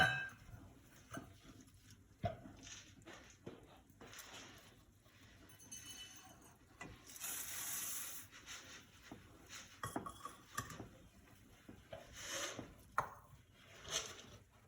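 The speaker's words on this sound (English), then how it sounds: "You're going to want to add 3 cups of oats, stirring constantly as you go." Spoon scraping and clinking in a pot as oats are stirred into a chocolate mixture for no-bake cookies, quiet and irregular with sharper knocks against the metal.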